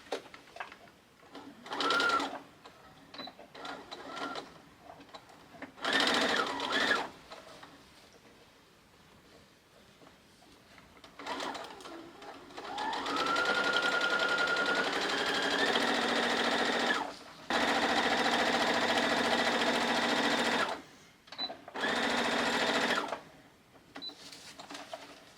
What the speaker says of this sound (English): And just sew all the way around.